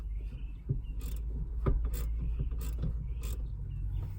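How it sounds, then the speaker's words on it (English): A bolt is turned by hand while Jeep seats are installed, giving quiet, irregular ratcheting clicks close by over a low background hum. "I'm just going to keep turning this bolt."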